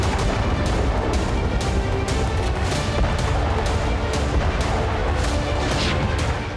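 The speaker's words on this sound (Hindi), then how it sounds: "धमाका इतना जबरदस्त था कि एंकर डर के कैमरे के सामने से भाग गए।" An explosion at the Syrian army general staff building in Damascus sets off a dense, continuous roar, with sharp repeated blasts and crashes punching through a loud, sustained rumble.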